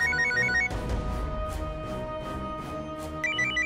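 A mobile phone rings with a repeating electronic ringtone of chirpy melodic trills in bursts over a background musical score, with no one speaking.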